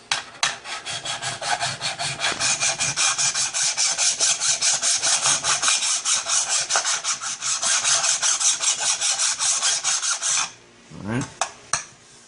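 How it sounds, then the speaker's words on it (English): A hand file scrapes across Cerakote-coated metal in steady, evenly paced rasping strokes for about ten seconds, then stops, leaving a few faint knocks and handling noises. "Why not finish it off with a file"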